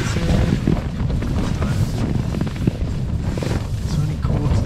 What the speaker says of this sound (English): it's getting windy. It's super windy